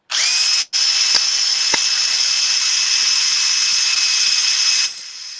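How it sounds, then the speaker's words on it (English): A power drill runs steadily at high pitch while boring into a part for a 1/6 scale Nieuport 17 model airplane, with a brief stop near the start, two sharp clicks, and the motor easing off at the end. "grab my drill. I already have the correct size drill bit."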